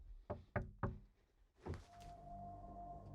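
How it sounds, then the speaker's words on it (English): Three hollow knocks on wood in quick succession inside a haunted house, followed by a duller thump and a faint sustained tone in a quiet room, with no talking. "I heard a knock."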